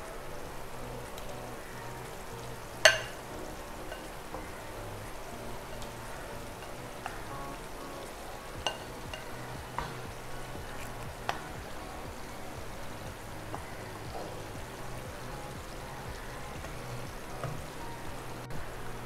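Eggs fry in masala in a pan for Kerala-style egg masala, giving a soft, steady crackling sizzle with a few sharper pops and spits.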